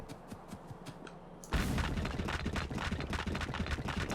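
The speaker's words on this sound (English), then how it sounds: "Those explosions are so weird." Explosions in the video game Factorio, modded with Angel's and Bob's mods, break out suddenly after a quiet stretch of light clicking. A dense, continuous crackle of rapid blasts and booms follows and keeps going to the end, with no talking.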